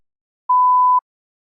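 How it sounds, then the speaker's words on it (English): A single steady electronic beep, clean and mid-pitched, lasting about half a second amid silence. "You may begin to prepare your response after the beep."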